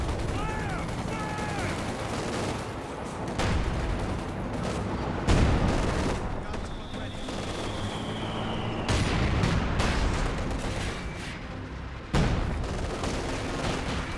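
MG42 machine gun fire in a Company of Heroes 2 match, with repeated bursts and distant booming shots of battlefield combat rolling on under a commentator's voice.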